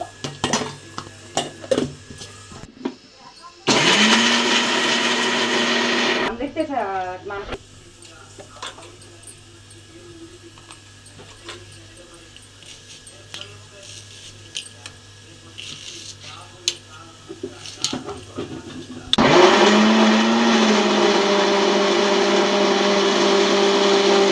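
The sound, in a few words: mixer grinder grinding spices and coconut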